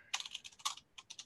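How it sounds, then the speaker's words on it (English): Quiet, close typing on a computer keyboard, a quick irregular run of light key clicks over about a second with no talk. "I'm gonna say your keyboard sounds a little quieter there, Mike."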